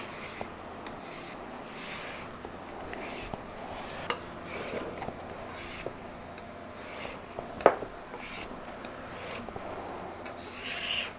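Old finish is scraped off furniture after a chemical paint stripper has softened it, in a series of rhythmic rasping strokes. They are close but fairly quiet, with no talking.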